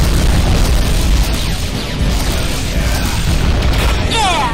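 A destroyed target explodes in the AquaNox underwater combat game, making a loud, sustained rumbling boom with crashing debris noise throughout, and a short electronic chirp near the end.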